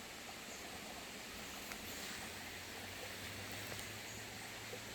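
A steady, faint wash of trickling water runs continuously, a small stream babbling quietly in the background beside a wetland boardwalk at Yumyeongsan native plant garden.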